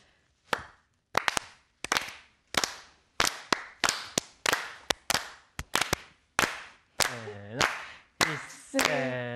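Sharp, loud hand claps keep a roughly steady beat for an impromptu dance on a Japanese morning TV show, about two per second, with voices cutting in near the end.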